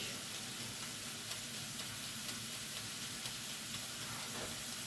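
A hot pan, deglazed with black balsamic vinegar and water, sizzles in a steady, even hiss of bubbling liquid that carries on without pause and without talk.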